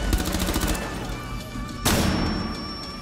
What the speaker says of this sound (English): That dude is on the staircase and just shot at me.